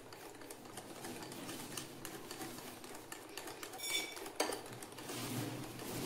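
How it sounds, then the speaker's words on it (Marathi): Boondi batter is whisked in a bowl, a continuous fine rapid clatter of a whisk against the bowl with a few louder knocks, fairly faint and close, without talk. "आता याला पुन्हा व्यवस्थित मिक्स करून घ्यायचं आहे आणि छान फेटून घ्यायचं आहे."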